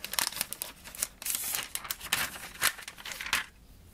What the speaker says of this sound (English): So let me just unwrap this.